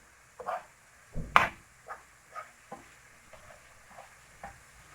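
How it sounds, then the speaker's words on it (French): Vegetables sautéing in a pan over medium heat, with soft sizzling underneath a series of distinct stirring scrapes and knocks from a utensil, spaced irregularly and fairly close. "je mets sur feu moyen et je fais revenir un petit peu mes légumes"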